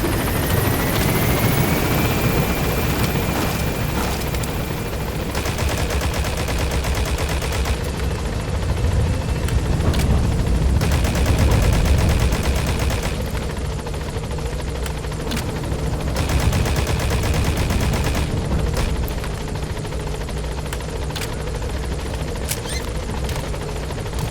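Helicopter extraction flight in Metal Gear Solid V: a steady, loud rotor drone fills the whole stretch, with scattered gunfire-like bursts mixed in and no speech.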